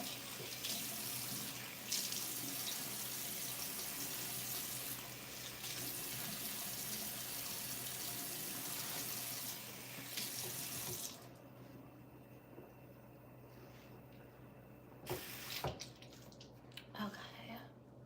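Tap water runs into a sink while face cleanser is washed off, a steady splashing rush interrupted by brief pauses and ending with a few quieter splashes and handling noises.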